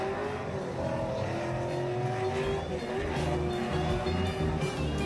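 Nissan 240SX drift car from a ProAm drift qualifying run, with a continuous high engine wail and tire noise, steady and at mid distance throughout.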